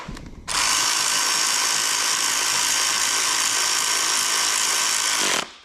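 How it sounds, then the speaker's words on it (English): An electric air ratchet with a 5/16 socket whirs loudly and steadily for about five seconds on a 5.3 engine build, starting and stopping abruptly. "Just grab a 5/16. Good old electric air ratchet."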